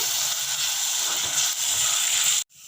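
Chopped tomatoes frying in oil for a paneer Kolhapuri gravy give a loud, steady, close sizzling hiss that cuts off abruptly just before the end.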